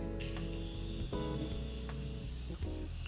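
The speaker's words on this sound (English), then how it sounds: "I like to take a makeup spray" Makeup setting spray, All Day Type Makeup Setting Fix, hisses out in a few short bursts, close to the listener, one long spray followed by briefer puffs.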